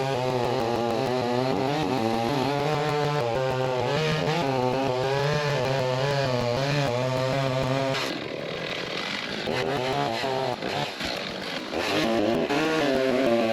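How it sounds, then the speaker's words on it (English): A chainsaw screams at high revs with a steady harmonic whine while cutting into a wooden log, then bogs and sputters irregularly as the chain bites into the wood, loud and close. "I'm gonna get the chainsaw and I'm gonna cut it and see how solid it is"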